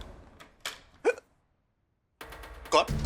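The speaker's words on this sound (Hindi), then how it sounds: "अरे आपको तो हिचकी आ रही है" A man hiccups a few times in a Hindi crime-drama scene, short sharp catches mixed among spoken dialogue, close and clear.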